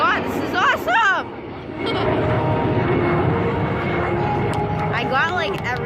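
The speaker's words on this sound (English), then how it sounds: "So, Jordan is in that plane." Airplanes flying in formation at an air show drone steadily throughout, with an excited crowd chattering and shouting nearby over the engine noise.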